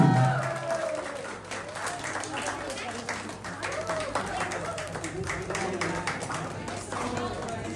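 An audience at a Tamang community Buddha Jayanti program in Abu Dhabi claps steadily to welcome a guest on stage. The applause is moderately loud and continuous, with chatter and voices mixed in.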